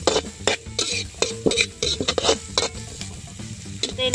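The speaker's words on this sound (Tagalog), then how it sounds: "Lalagyan ko pa ng konting mantika. Gigisa lang yan ng ganyan katira." Garlic and onion sautéing in oil for a shrimp paste during outdoor cooking, with a loud close sizzle and rapid rhythmic scraping of a spatula against the pan.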